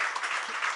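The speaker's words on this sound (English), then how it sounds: "I see only Shreyas clapping at the end of every answer." Clapping at a press conference, a short and fairly loud wash of many hands applauding together, steady and without talk.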